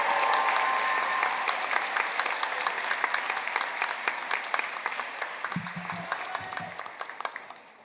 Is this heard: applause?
yes